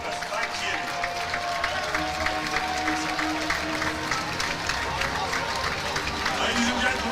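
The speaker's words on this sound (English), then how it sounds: "a huge round of applause as they follow our president" A crowd at a powerlifting championship claps and applauds in a sustained, dense wash of clapping that continues steadily throughout, with murmured crowd noise and a voice underneath.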